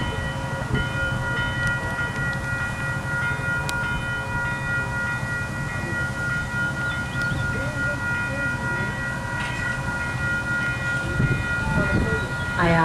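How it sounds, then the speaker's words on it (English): ION light rail train arriving at a station, a steady low rumble of wheels on track with a sustained tonal hum and whine, fairly near and continuous, with a faint chime or horn-like tone layered over it. "train to Conestoga is arriving."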